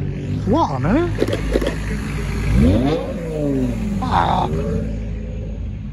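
A Manti Racing Porsche 911 GT3 992 pulls away from a car show, engine revving in rising sweeps nearby and then fading, with a person briefly speaking.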